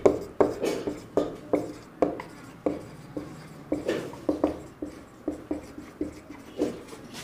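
Handwriting a maths solution with a pen on paper: a steady run of short scratchy strokes and taps, close and fairly quiet, with no one speaking.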